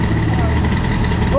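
A boosted Airsal XT 77 Nitro scooter engine keeps running close by, a steady buzzing drone under a brief spoken voice.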